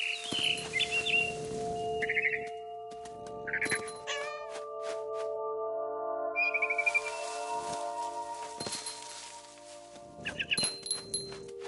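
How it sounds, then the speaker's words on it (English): Bursts of high, rapid bird chirping from the video game What Remains of Edith Finch come and go over sustained synthetic tones, with a few thumps between. "Then I heard chirping outside my window."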